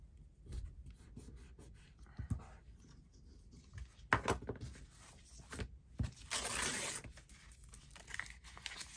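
Paper being folded over by hand while filling a journal pocket, a run of crinkling and creasing rustles with sharper crackles near the middle and a longer scuffing rub toward the end, close and fairly quiet with no talking.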